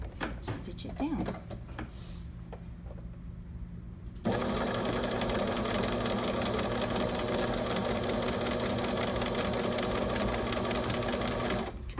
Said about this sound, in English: Then I'm going to move my needle one click over so that I can get closer to this line of stitching. And then I'm just going to stitch it down.